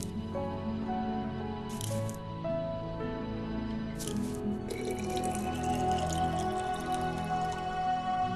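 Water pours from a jug into a bottle in the video game Gray Matter, a steady close trickling fill that runs for several seconds over layered game music with brief bright bursts.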